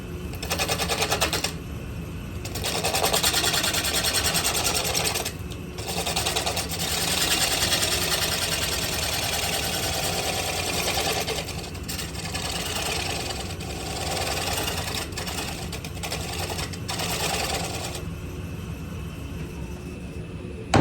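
A half-inch gouge cuts a glued-up wood block spinning on a lathe, a steady droning hum of the machine with rough scraping of the cut, broken by brief pauses, close and fairly loud throughout.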